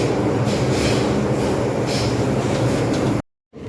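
A train rumbles and clatters nearby with a steady roar of wheels on track, then the sound cuts out abruptly near the end.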